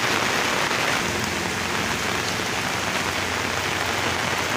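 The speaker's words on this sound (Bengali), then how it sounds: "সকাল থেকে দুমে বৃষ্টি দেয় মানে থামার কোনো লগই নাই" Heavy rain pours steadily in Assam, a dense, unbroken hiss of drops close by with no pauses and no voices.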